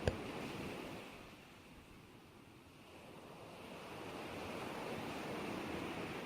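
Ocean waves wash steadily against a beach shore, a continuous broad surf roar that swells and recedes gently, with a soft wind-like hiss throughout.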